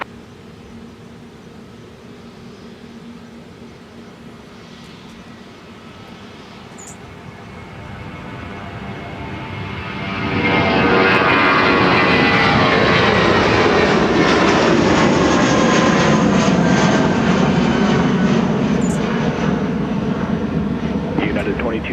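An airliner lands on runway 30 left at Minneapolis–Saint Paul airport, its engine roar swelling from a distant rumble to a loud, sustained broadband rush that holds steady, with radio voices faintly present early on.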